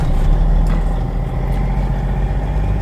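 Loud, steady engine rumble from a truck bouncing its way across a farm field, heard close with heavy low drone and no talk.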